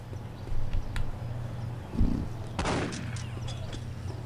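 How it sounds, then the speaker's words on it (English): Scattered gunfire in Postal 2, a few separate shots and blasts rather than sustained fire, including one heavier boom, over a low rumbling game background. "Everybody starts shooting at me."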